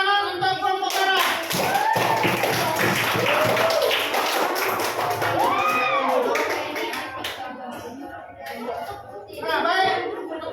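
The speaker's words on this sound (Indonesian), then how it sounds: "tepuk tangan untuk kelompok merah" A classroom of children applauds a group in a lesson, with a sustained burst of clapping and tapping close by, mixed with overlapping kids' voices and chatter throughout.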